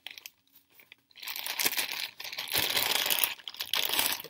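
A packaged doll being unwrapped from its plastic wrapping and tape: after a near-quiet start, close, continuous crinkling and rustling fills the rest, loud and busy.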